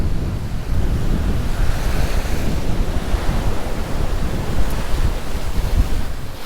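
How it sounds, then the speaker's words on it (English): Ocean waves surge and wash onto the shore at Secret Beach in Mirissa, Sri Lanka, under a constant broadband rush of wind buffeting the microphone, with no voices. "There's a little bit of a wind."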